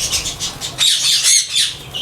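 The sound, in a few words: squawk from pet parrots (ringnecks, sun conures, lovebirds)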